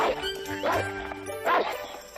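A dog barks repeatedly in short, close, loud yelps, with a few whimpering tones, in an animated Tom Sawyer episode.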